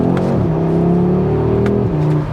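An Audi RS3 hot hatch with an S-Tronic dual-clutch gearbox accelerates hard, its engine note climbing in pitch with quick near-instant upshifts, loud and close, before the revs drop off at the end.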